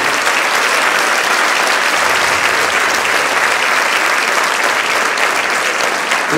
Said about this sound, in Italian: Facciamo un applauso al corpo artistico di Televisione.